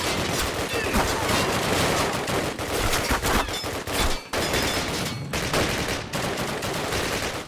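Machine gun fire in Call of Duty: loud, close, sustained bursts of automatic gunfire with brief gaps between volleys, layered with other battlefield shooting.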